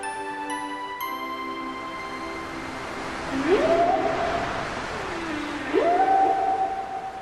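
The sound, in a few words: whale song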